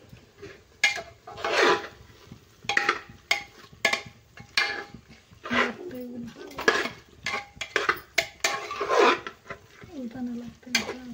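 Vegetables and spices sautéed in a pan for green pulao, with repeated scraping and stirring strokes of a spoon against the pan at an irregular rhythm, close and fairly loud, with faint sizzling in between.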